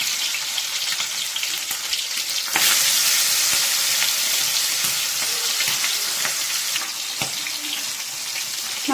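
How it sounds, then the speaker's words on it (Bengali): Fish heads crackle and spatter loudly in hot oil, a steady dense sizzle that swells sharply a few seconds in as more pieces hit the pan, with occasional clatters from a utensil; no one talks. "তেল গরম হয়ে গেছে, এবার আমি মাছের মাথাগুলো দিয়ে দেবো।"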